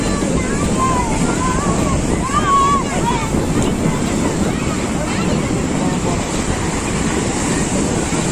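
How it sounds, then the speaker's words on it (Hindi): Sea waves surge and wash in continuously under strong wind buffeting the microphone at Marina Beach in Chennai, a dense, steady roar of surf with faint distant voices in the background. "ऐसी ठंडी ठंडी हवाएं चल रही हैं और ऊपर से मतलब लहरें उठ के आ रही हैं"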